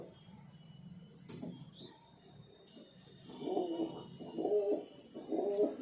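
Salara Teddy pigeons in a loft cooing in soft repeated low calls, growing louder toward the end over faint background noise, with a brief knock early on.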